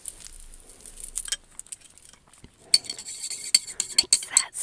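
A utensil stirs hair dye in a bowl with close, quiet scraping, then a run of bright clinks and taps against the bowl that grows busier toward the end.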